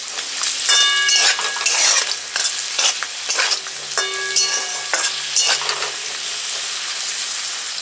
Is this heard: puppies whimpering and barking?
no